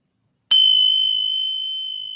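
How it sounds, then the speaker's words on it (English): A single bright bell strike rings out after a moment of silence, sustaining a clear, pure tone that slowly fades. "that was a good ring on the bell"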